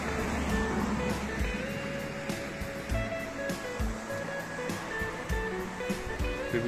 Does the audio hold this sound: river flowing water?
yes